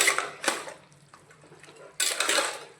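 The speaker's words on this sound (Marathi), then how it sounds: "आता असं मिक्स करून घेते जरा" A spoon scrapes and clinks while stirring chicken pulao inside a pressure cooker, with two louder metallic scraping bursts separated by a quieter stretch of soft rustling.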